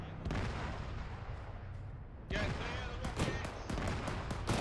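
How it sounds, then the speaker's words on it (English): Rocket launcher ammunition cooks off in ArmA 3 as a low rumbling blaze, then breaks into a rapid series of sharp, loud pops and bangs that come in irregular bursts. "a rocket launcher cooking off"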